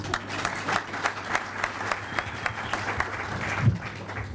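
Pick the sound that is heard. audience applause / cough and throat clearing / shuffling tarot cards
audience applause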